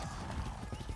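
A horse's hooves clip-clop steadily in the video game Far Cry 6, a quick, even rhythm of muffled beats under a dense, noisy game background, fairly faint.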